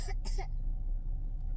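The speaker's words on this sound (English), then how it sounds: "he's got a little bit of the cough-see still" A young child inside a parked car gives a couple of quick, close coughs near the start, followed by quiet car-cabin hum.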